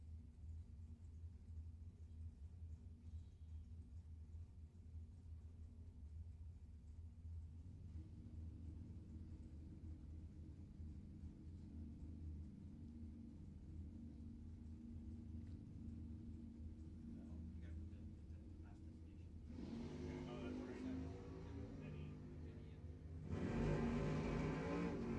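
Drag race cars, including a primered 1970 Buick Skylark, idle at the line with a low rumble that builds, then burst into a loud roaring launch near the end.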